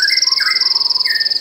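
A pleci bird, also called a white-eye, sings a high continuous trilling song with sustained whistled notes and small rising flourishes, close and loud, with no voices over it.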